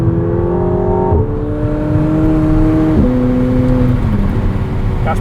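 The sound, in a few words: sports car engine revving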